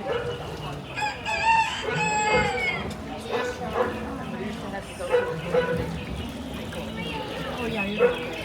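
A rooster crows a few times along a farm scene on Epcot's Living with the Land boat ride at Walt Disney World, mixed with ride narration, music and nearby talk.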